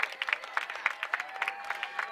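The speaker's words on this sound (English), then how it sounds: "a big round of applause ovation for the Titans as their season comes to an end" Crowd applause and cheering for the Eastlake Titans girls varsity soccer team at a CIF semi-final, with a dense, steady patter of clapping that holds loud throughout.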